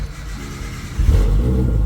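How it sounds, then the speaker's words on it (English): A Nissan R32 GT-R engine turns over and catches at about the one-second mark, then settles into a steady, loud, rumbling idle close by. "now the car is idling"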